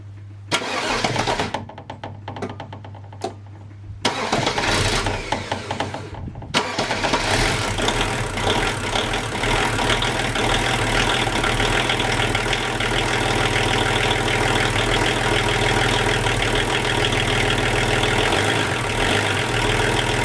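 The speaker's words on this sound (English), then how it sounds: "we're going to start the car to see if our engine still runs okay" A Volvo car engine cranks in a few short bursts, then catches and settles into a loud, steady idle with a constant low rumble.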